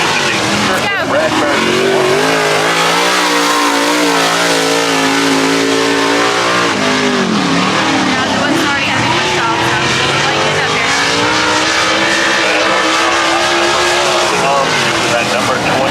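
Race car number 27 revs loud and close on the track, its engine note rising and falling continuously through the whole stretch, with voices underneath.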